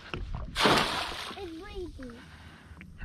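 A crab trap drops off a Sea-Doo Fish Pro into the sea with a single sharp splash, followed by sloshing water and a brief voice nearby.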